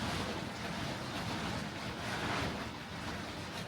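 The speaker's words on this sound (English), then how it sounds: "This tarpaulin is making the weather sound a lot more dramatic than what it is. It's just a bit of wind." Strong wind in Wales roars steadily at close range and buffets a tarpaulin, a dense, continuous rush with no clear individual flaps and no speech.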